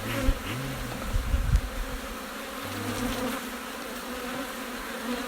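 Honeybees hum in a close, dense swarm around beehive frames, with individual bees droning louder as they fly past, and no voices.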